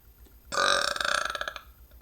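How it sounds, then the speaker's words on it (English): A single close, fairly loud human burp lasting about a second, rising abruptly and rattling with a pulsing, croaky texture before trailing off. "couldn't even get a good burp"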